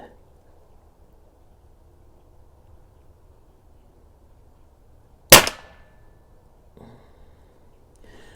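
A single sharp report from a Skout Epoch air rifle fired outdoors, one loud close crack with a brief ringing tail, standing alone against quiet low background hum.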